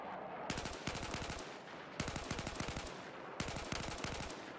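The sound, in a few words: M4/M16A4 burst fire in the video game Battlefield 4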